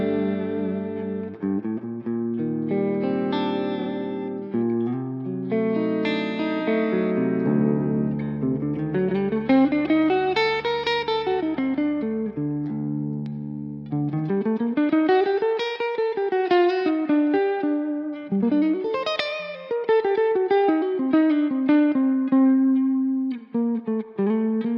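Clean electric guitar run through a Valhalla Delay reverb plugin on a Neural DSP Quad Cortex, playing sustained melodic lines with swelling, washy echoes and lush ambient tails, continuous and fairly loud with no talking.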